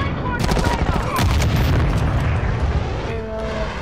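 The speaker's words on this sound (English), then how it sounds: "Grenade!" Grenade blast in a Call of Duty match, a deep rumbling boom with debris crackle that lingers and fades amid gunfire and game noise, with voices shouting over it.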